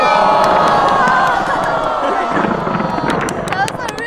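Fireworks grand finale watched from a street near Jamsil Tower in Seoul: a loud crowd cheers and shouts throughout, with a few sharp cracks bursting near the end.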